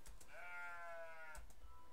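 A goat in a video game lets out one clear, wavering bleat lasting about a second, close and distinct, with faint game background around it.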